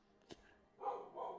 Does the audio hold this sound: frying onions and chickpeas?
no